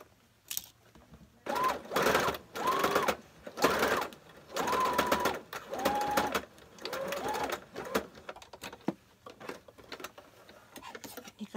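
A sewing machine stitches a shirt seam in a run of steady, whirring bursts of a second or so each, separated by short pauses, close and clear with little else around.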